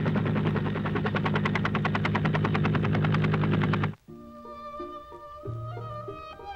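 Aircraft firing rockets at a 1977 Japanese military firepower demonstration: a loud, sustained rapid-pulsed roar for about four seconds that cuts off abruptly, followed by quieter tonal music.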